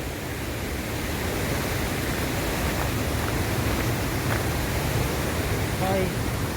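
Constant heavy roar of rushing water at Thommankuthu waterfall in Idukki, a thick even wash of sound, with a brief faint voice surfacing near the end.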